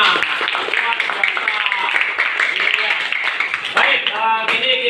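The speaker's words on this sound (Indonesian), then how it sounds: "Tepuk tangan untuk kita semua." Schoolchildren in a classroom clap together for themselves after finishing a lesson task, a brisk, busy patter of hand claps mixed with children's voices calling out over it.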